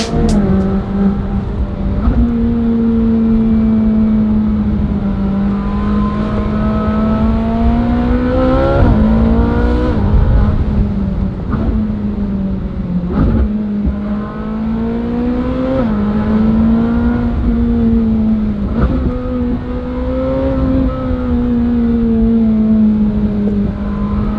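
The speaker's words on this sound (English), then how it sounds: "how about a little backcountry action with just exhaust notes, shall we?" A Ferrari 458 Speciale Aperta's exhaust rings out during a backcountry drive, loud and close, its tone rising and falling with each throttle change and gear shift for over twenty seconds.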